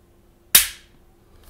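A single sharp crack from an HK/WE S&W M&P9 gas blowback airsoft pistol firing, loud and close, with a quick decaying tail of gas and slide noise, then a faint clatter just after.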